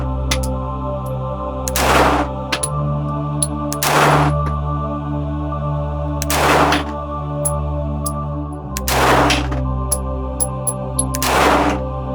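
A CZ P-09 pistol fires at paper targets outdoors, five sharp, loud single shots spaced about two seconds apart, each with a quick echoing decay over a steady low background hum, with no talking.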